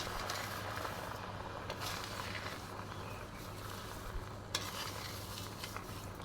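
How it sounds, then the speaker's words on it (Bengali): Sugar being slowly stirred into a pan of mango pickle, producing a soft continuous scraping and faint sizzle with occasional clinks, steady and close throughout. "এরকম করে আস্তে আস্তে নেড়ে নেড়ে চিনিটাকে মিশিয়ে নেব"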